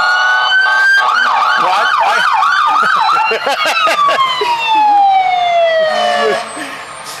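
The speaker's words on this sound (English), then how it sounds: "So they have sirens also." Loud wailing emergency vehicle sirens at a fall festival parade sweep up and down close by, several overlapping, with a brief spoken word partway through as the tones fade.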